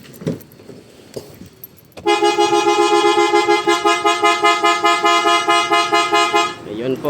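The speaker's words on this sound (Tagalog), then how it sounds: "Ayun po ang tunog ng isang original na PIAA superior bass horn" A PIAA Superior Bass car horn fitted to a Toyota Wigo blares in one loud, rich, steady honk lasting several seconds. It follows a few brief knocks and clicks and ends abruptly.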